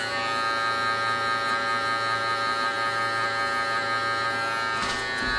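Electric hair clippers buzz steadily and close up while cutting a back taper with a 5 guard, a constant unbroken drone with a brief scrape near the end.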